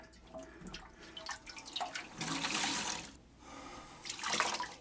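Water being scooped or siphoned out of an old toilet tank ahead of a fill valve replacement, giving irregular close drips, trickles and sloshing bursts that swell and fade, with no talking.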